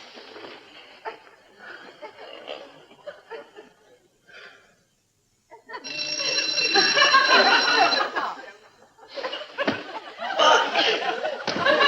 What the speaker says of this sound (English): I set the alarm for 7 when we went to bed